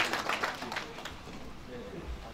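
An audience claps at the opening ceremony of a Korea-Japan friendship song contest, a steady wash of applause that runs throughout under a voice speaking over it.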